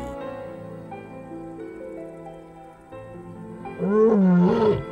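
A weakened lioness, alone and away from her group, calls out in the wild, a low rough tonal roar that swells loudly near the end over a faint background drone.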